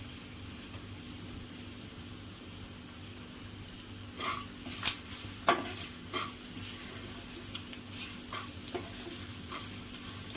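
Turmeric and salt sizzle in a hot oil tempering (phodni) with a continuous, moderate frying hiss, broken by a few sharp stirring clicks and scrapes against the pan.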